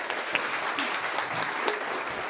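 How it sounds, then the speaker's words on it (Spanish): Audience applause at a church gathering, a continuous even wash of many hands clapping at moderate level with no voices. "un aplauso para ustedes que estuvieron aquí, pudieron escuchar"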